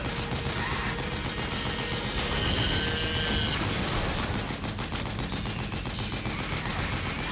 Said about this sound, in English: I'll go back to shooting